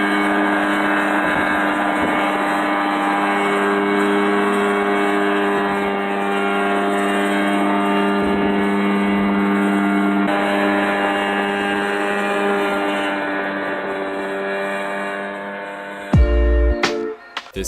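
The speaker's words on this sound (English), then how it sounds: "This guy built an ultralight helicopter that he could fly himself." A homebuilt ultralight helicopter flies with a loud, steady droning engine whine and rotor buzz that hold nearly constant for over fifteen seconds before cutting off abruptly into a few brief clunks.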